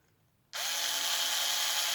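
A power drill starts abruptly and whirs at a steady high pitch, close and loud, while driving bolts into a Traxxas X-Maxx rear differential during a ring gear and pinion replacement.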